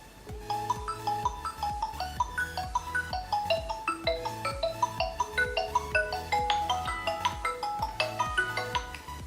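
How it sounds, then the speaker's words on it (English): Incoming-call ringtone linked to a Forca F602 smart fitness band, a bright repeating electronic melody that loops steadily and clearly for several seconds. "So guys, you saw the call notification on this one."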